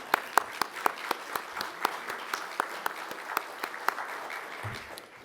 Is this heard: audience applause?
yes